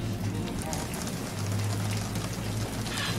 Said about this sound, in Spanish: Hoy partimos con toda una ambientación de lluvia que no hay